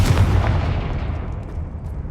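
A fiery blasting spell from the Hogwarts Legacy video game erupts in a loud, booming explosion that rumbles heavily through the low end and slowly decays over about two seconds.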